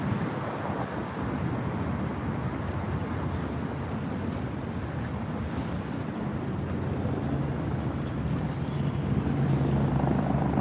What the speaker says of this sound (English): Oh, there's a helicopter.